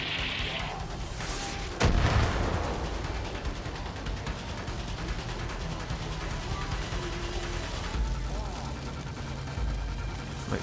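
Gunfire and booming explosions in the video game Far Cry 5 during an attack on a cult outpost at a park ranger station, with a loud blast near two seconds and more shots and rumbling later, while a voice talks over it.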